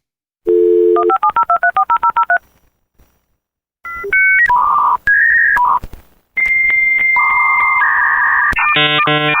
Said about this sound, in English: It's the dial-up internet sound.